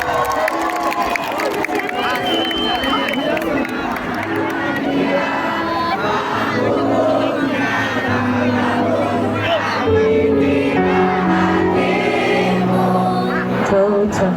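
A big crowd at a band concert in Kotabumi cheers and shouts loudly and continuously, a dense roar of voices mixed with whoops and music tones throughout.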